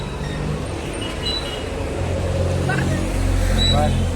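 A car engine runs nearby during a family Holi celebration at home, a low steady rumble that grows slightly louder toward the end, heard beneath people talking.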